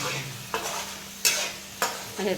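Spice masala sautéed in oil in a pan for Maharashtrian masvadi, with a steady low sizzle and three sharp scraping stirs spaced roughly evenly, close and fairly loud, with no talk.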